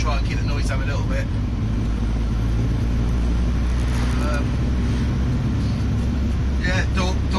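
Steady, loud interior road noise inside a 1984 Morris Ital 575 van on the move, with rubber floor mats over underlay: a constant low rumble and wind roar throughout, with faint voices now and then.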